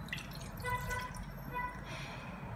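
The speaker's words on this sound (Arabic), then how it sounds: "كنضيف ليها واحد كاس حليب" A glass of milk being poured into a saucepan for homemade chocolate sauce: a soft, steady liquid trickle close by, faint and continuous over low kitchen background noise.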